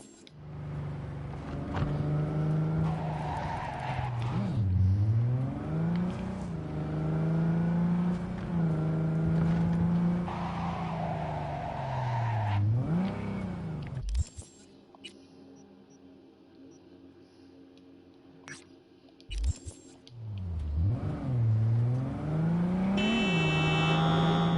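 A car engine driving in the Cyberpunk 2077 video game, loud close engine hum rising and falling through repeated revs and gear shifts, briefly dropping away mid-stretch before revving again.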